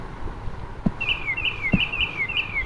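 A bird chirp sound effect looping in Scratch, repeated short rising tweets in a steady rhythm, clear and close over faint background clicks.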